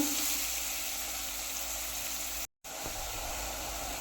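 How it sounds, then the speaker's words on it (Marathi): Three medium chopped onions sautéing in a pan until soft for a fresh prawn dish, giving a steady, even sizzle throughout with one very brief dropout partway. "आता हे छान असं परतून घ्यायचं आहे आपल्याला कांदा पूर्ण सॉफ्ट होईपर्यंत"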